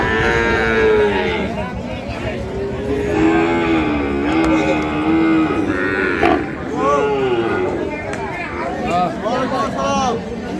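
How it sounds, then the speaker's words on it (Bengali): Sahiwal breed bull calves at the Ambari livestock market in Dinajpur, Bangladesh, mooing loudly and repeatedly over a busy background of crowd chatter and market noise, with people talking throughout. "দেখছি আমরা আজকে দিনাজপুর জেলার আমবাড়ি হাটের শাহিওয়াল জাতের বাছুর।"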